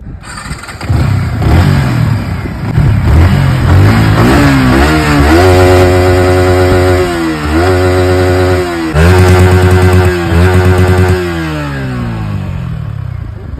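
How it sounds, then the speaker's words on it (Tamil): A motorbike engine cranks and catches, then revs up and down several times in loud, close rising and falling sweeps before settling toward idle. "உங்க ரெண்டு பைக்கோட சவுண்ட காமிங்க"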